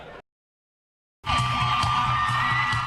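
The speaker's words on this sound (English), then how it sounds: "the crowd, and of course the cheers" Crowd noise from a Friday night high school football game in Oklahoma, a dense, loud roar of cheering and whooping that breaks in after a brief silence and holds steady, with music underneath.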